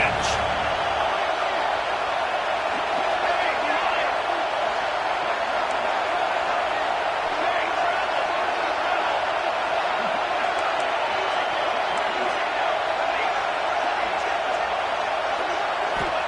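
A football stadium crowd keeps up a steady, loud roar through a third-down play in the red zone. The wash of noise holds at a constant level for the whole stretch, with faint whoops and a few scattered sharp knocks rising above it.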